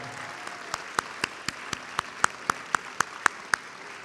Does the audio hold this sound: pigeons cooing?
no